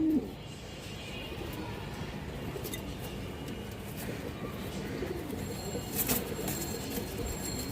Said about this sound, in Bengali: মাদি কবুতরটা এই যে দেখেন চান, এই যে ডাক দেখেন